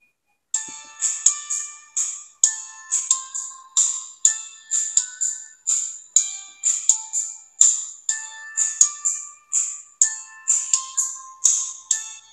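A Xiaomi Watch S1 Active ringtone: a bright electronic melody of quick chiming notes repeating in a steady pattern for the whole stretch, clear and alone.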